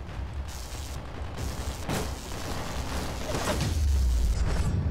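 Muffled explosion rumble in the Steamcraft car battle game, a dull low boom building over a constant mechanical engine drone, with a swelling burst of low-end near the end, no talk.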